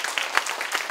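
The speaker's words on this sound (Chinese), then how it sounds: "给黄琦一个掌声，让他回去" Brief applause from a teaching workshop audience for a participant, a short patch of light, scattered clapping without voices.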